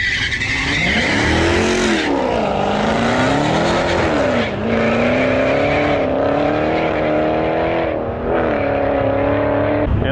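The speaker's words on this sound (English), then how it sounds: "first official pass down the drag strip" A loud drag racing car roars and revs continuously down a drag strip, pitch climbing and shifting through gears as it accelerates hard, with brief tire noise; no talking.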